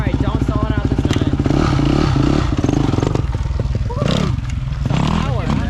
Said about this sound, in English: It's backfiring a little bit.